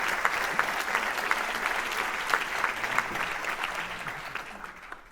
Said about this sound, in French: je vous demande de faire un tonnerre d'applaudissements pour Christelle Lotiste.